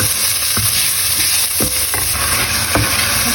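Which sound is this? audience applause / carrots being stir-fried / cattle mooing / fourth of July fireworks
carrots being stir-fried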